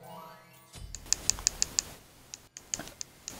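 A game controller's D-pad is pressed repeatedly during a Smite ranked joust match, giving a string of sharp, close plastic clicks, first in a quick even run and then in scattered pairs over a quiet background.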